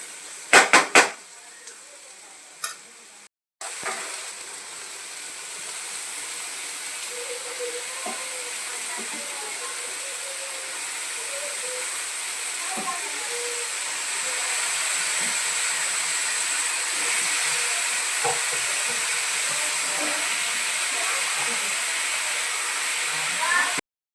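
Chopped ridge gourd hits a hot pan with ghee and sets off a loud, steady sizzling hiss that lasts about twenty seconds, after a few brief clatters at the start.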